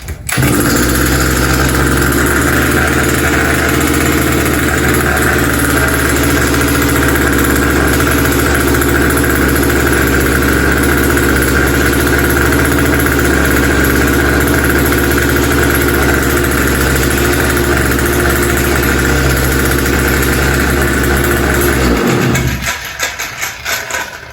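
A small gasoline engine on an Earthquake earth auger, freshly fitted with a new carburetor, runs loud and close at a steady idle with a droning buzz, then is cut off near the end and quickly falls silent.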